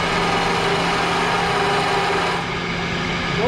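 A woodworking lathe spins at raised speed, giving a steady, close, continuous motor whine and hum with a faint drop in tone near the end; no one speaks.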